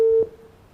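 A telephone busy tone after a dropped call sounds as one short, steady electronic beep, then cuts off into quiet line hiss.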